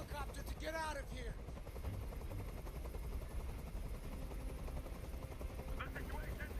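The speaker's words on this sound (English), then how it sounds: "I can't stand that noise anymore. Tell that helicopter to get out of here." A helicopter flies overhead during a hostage standoff, a steady, loud rotor and engine rumble that fills the whole stretch. Brief voices sit over the noise at the start.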